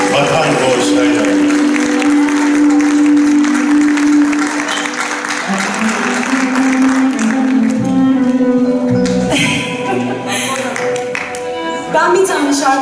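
Audience applause welcoming choir conductor Aylin Vatankoş Şen at a TMMOB JMO Istanbul branch Turkish music choir concert, steady and loud through the whole stretch, with music and crowd noise blended underneath.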